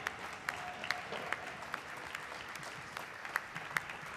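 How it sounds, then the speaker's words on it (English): At the St. Louis Park community talent show, the audience gives a round of applause for performer Mia Latz, scattered faint claps with a few sharper, louder hits, heard from a distance. "Big round of applause for Mia Latz."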